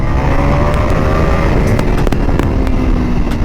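A CFmoto 800NK motorcycle accelerates hard in street mode, its engine loud and close with a rising, revving roar held throughout, and a few sharp transient pops.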